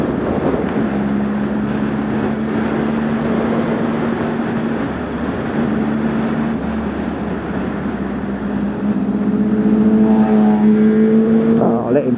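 A Triumph Speed Triple ABS motorcycle exhaust drones steadily while riding, a loud sustained engine tone with rising pitch near the end, heard under wind noise with a rider talking over it.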